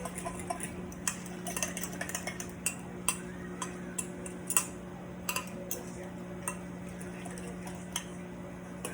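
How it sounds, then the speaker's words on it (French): A utensil stirs sweet and sour sauté seasoning in a pan, giving a series of light, irregular clinks and scrapes at close range over a steady low hum. "On va brasser."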